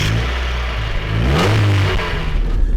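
A Mazda MX-5 roadster engine revs and pulls away close by, its note rising and swelling mid-clip before settling into a steady drone, with no talking over it.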